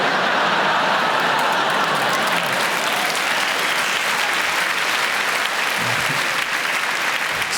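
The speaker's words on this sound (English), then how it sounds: "the younger people laughing and clapping" A live comedy audience at the Apollo claps loudly and laughs together, a dense, continuous wall of applause that holds steady almost to the end before thinning slightly.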